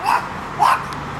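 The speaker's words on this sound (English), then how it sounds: "Silencio el perro." A dog barks twice, a short sharp pair spaced about half a second apart, close and fairly loud over a quiet background during a walk through a rough local market in Iguazu, Argentina.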